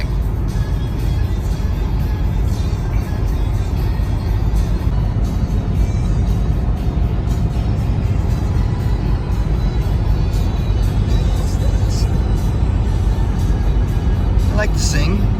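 Steady road rumble and engine drone from a car driving through Fargo, North Dakota, continuous and loud from inside the cabin, with no clear breaks across the whole stretch.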